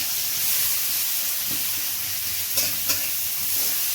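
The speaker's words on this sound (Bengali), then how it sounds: "প্রথমে তেলে এই শুকনো লঙ্কা রসুন পেঁয়াজ সব আলাদা আলাদা করে ভেজে নেওয়া হচ্ছে" Dried chilies, garlic and onion fry in hot oil with a constant close sizzle and hiss, broken by a couple of brief clicks and stirring scrapes.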